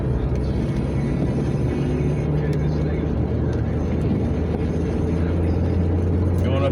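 A car drives uphill in the rain on a rural Washington road, with a steady low road and engine rumble, tire hiss on wet pavement and a faint droning hum, continuous throughout without talk.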